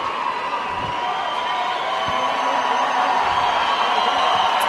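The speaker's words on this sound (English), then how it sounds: "As the crowd making noise for Perez" A boxing arena crowd in San Jose making a steady, broad wash of noise for boxer Perez, distant and sustained without sharp peaks.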